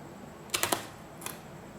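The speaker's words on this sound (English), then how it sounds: "let's cut open the seal" Cutting open the seal on a Sony ZV-1 camera box: three quick close slicing clicks followed by a softer fourth after a short pause, crisp and near in an otherwise quiet room.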